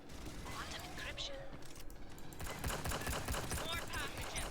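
Gunfire in the video game Aliens: Fireteam Elite, a dense, continuous rattle of rapid shots that grows heavier in the second half, with game voices and music blended underneath.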